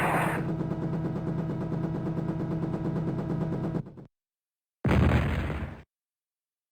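Missile launch and impact in the Jane's Longbow helicopter sim: a loud sustained roaring rush for about four seconds, then a brief silence and a second heavy blast burst, with no talk.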